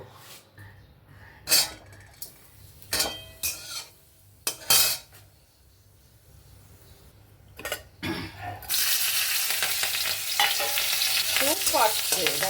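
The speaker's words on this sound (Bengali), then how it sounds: "কাঁচা লঙ্কা দিয়ে আমি বরবটি আর গাজরটা ভেজে নেব" Yardlong beans and carrots with green chilli go into a pan. Several loud clattering knocks and stirring scrapes come first, then a steady, bright sizzle of frying takes over.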